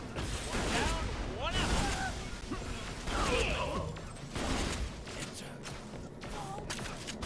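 Scav shotguns firing in bursts in Borderlands The Pre-Sequel, loud repeated blasts with whooshing and mechanical clatter spread across the clip, with gaps between bursts.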